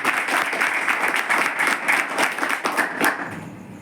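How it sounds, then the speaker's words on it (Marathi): Sustained applause from a gathered audience honoring their teacher at a tribal hostel in Amravati, many hands clapping loudly and evenly before tapering slightly at the very end. "वाजपेयी सरांसाठी टाळ्या वाजवा"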